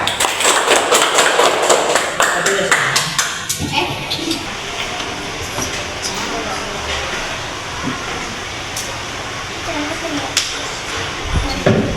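Applause in a classroom, where a lesson is under way: a short burst of clapping from students at the start fades quickly, followed by quieter room noise and scattered taps.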